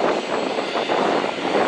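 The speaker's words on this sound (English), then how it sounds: "I thought this was a great place to watch the planes take off and land" A jet airliner taking off or landing at Manchester Airport, heard up close as a loud, steady engine roar that fills the whole short stretch without a break.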